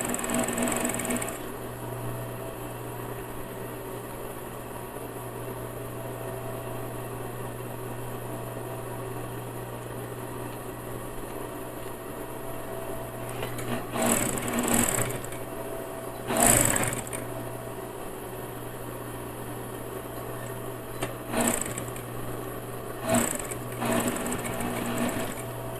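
A sewing machine stitches a folded elastane bias binding strip onto a garment's back neckline, running as a steady close motor hum with a few brief louder bursts of faster stitching near the end.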